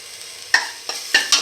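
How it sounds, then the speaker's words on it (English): Ginger garlic paste frying in a pan, stirred with a utensil: a soft, steady sizzle broken by a few sharp, close scraping strokes, with no talking. "Now put in the ginger garlic paste,"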